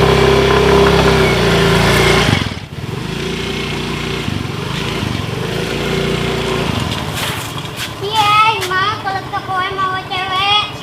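A Honda Grand motorbike engine runs steadily and loudly up close, its hum briefly dropping out, then continuing under scattered voices and some music-like tones near the end.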